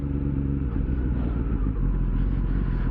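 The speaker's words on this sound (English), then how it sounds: "CBR 250R, my other bike, and the rider riding it is my brother." A Honda CBR 250R motorcycle riding close by, its engine giving a steady, loud low rumble with slight surges in throttle throughout.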